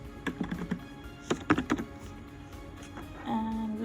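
Clattery keystrokes on a computer keyboard as a location name is entered, a short burst of close, quick taps followed by a second cluster, then a quieter pause.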